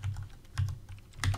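Keyboard typing in Minecraft, a few quiet clusters of soft key clicks spaced irregularly over about a second and a half.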